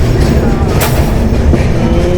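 A passing train, likely a Maha Kumbh special hauled by a WAG7 electric locomotive, rumbles loud and close with a steady rolling roar of wheels on rails and one brief sharp clank partway through.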